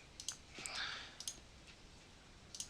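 Computer mouse clicking during 3D scenery editing for a flight simulator, a few quick sharp clicks, some in close pairs, faint and nearby over a low hiss, with no talking.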